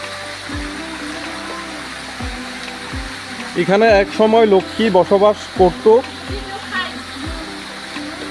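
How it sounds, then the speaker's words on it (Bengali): Water pours from high up at the Lakshmi waterfall, a steady rushing hiss heard beneath someone speaking, with some low thumps in the background. "এই যে দেখতে পারতেছেন অনেক উপর থেকে পানিগুলো পড়তেছে"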